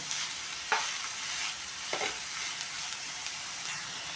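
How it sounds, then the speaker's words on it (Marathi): Fenugreek greens are stirred and sautéed in a hot pan for methi pithla, a soft continuous sizzle broken by a few sharper scraping strokes of the spoon, close and with no talking. "असे परतत परतत ही सगळी भाजी आपण त्यामध्ये टाकून घेणार आहे"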